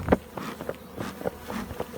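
A swarm of honey bees hums and buzzes continuously around a tree branch where the queen had settled, a dense close drone with individual bees whizzing past in brief louder swells.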